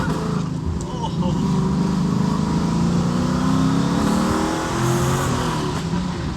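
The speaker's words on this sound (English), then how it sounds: "So we're hearing a little bit of turbo, but this is gonna rip." Auction Camaro SS with two big turbos fitted, its engine revving loud and close with a rising, sustained roar that swells and eases over several seconds, voices talking under it.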